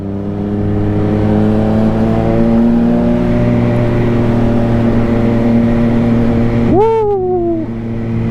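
A Triumph Street Triple R motorcycle ridden through central London, its engine droning steadily and rising in pitch as it accelerates, loud and close, with a brief rising-and-falling whoop late on and no talking.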